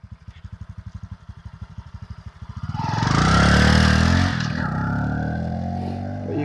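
A VS Boxer 150 motorcycle idles with a steady pulsing thump, then revs hard and pulls away, the engine roar swelling loud and then holding as it rides off, with no talk.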